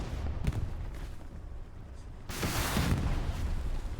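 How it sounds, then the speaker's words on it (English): Distant explosions rumble through a Stalingrad battle in the video game Hell Let Loose, a low booming din with sharper blasts around the midpoint and a louder burst near the end. "Explosions."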